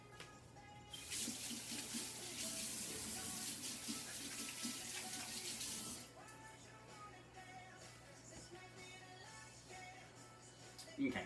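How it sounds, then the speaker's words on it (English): A kitchen tap runs with a steady broadband rush while hands are washed, the stream shutting off about halfway and leaving quieter sink handling noises and faint background hum. "I'm gonna wash my hands real quick"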